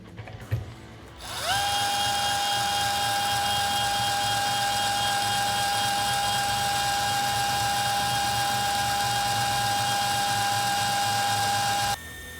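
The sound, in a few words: power drill spinning Pfister faucet install tool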